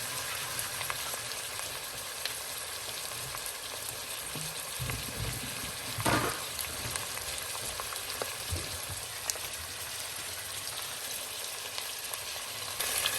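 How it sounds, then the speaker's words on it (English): Cabbage stir-frying in a pan for a Christmas dinner, a steady close sizzle running throughout with a few louder scraping stirs around the middle. "So stir fry them up"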